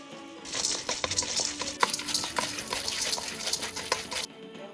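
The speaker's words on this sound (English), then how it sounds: "We are going to add in the popcorn kernels. Mix it with the butter." Popcorn kernels stirred into melted butter in a pot, giving a close, busy rattling and scraping with light clicks of utensil against metal, ending abruptly.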